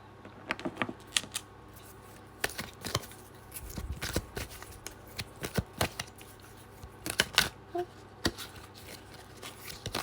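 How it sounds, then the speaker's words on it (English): Crisp, rapid riffling bursts of cards being shuffled, several rounds in a row with brief pauses between, close and fairly loud. "Do you want me to shuffle or just take it from the top?"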